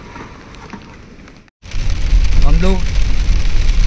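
Rain falls on a vehicle during a mountain road trip near Baltal, heading toward Sonamarg, a dense hiss that grows louder partway through under an engine rumble, with a brief voice before it.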